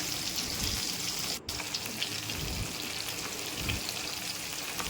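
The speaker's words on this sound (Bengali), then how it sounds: "মাছগুলোকে একটু লাল লাল করে ভাজবো" Large kalbos fish pieces frying in oil Bengali style, a dense, continuous hiss of sizzling with faint pops, steady and close.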